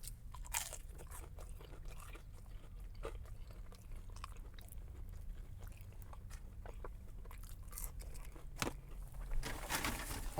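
Someone bites into and chews a McDonald's chicken nugget, with soft, faint crunching and chewing in a quiet room and no talking.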